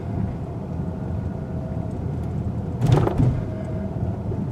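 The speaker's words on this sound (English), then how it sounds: "we're going to take some speed humps around 20 miles per hour" A 2021 Kia Sorento X-Line AWD on large tires and wheels rolls over a speed hump at about 20 mph, giving a brief, dull double thump over steady road and cabin rumble.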